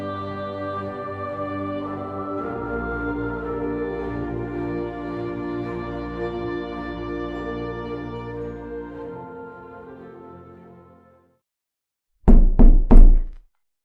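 After a sustained musical tone fades to silence, three sharp knocks land on a door in quick succession, loud and close.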